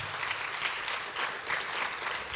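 A church congregation claps steadily for the Lord during a Sunday sermon, a dense and fairly even wash of applause that runs throughout with no speech over it.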